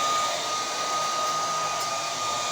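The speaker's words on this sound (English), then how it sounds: "Just get the blow dryer and put it through, because I don't like it to be on my hair for too long." A handheld blow dryer drying hair roars loud and steady at close range, with no talk over it.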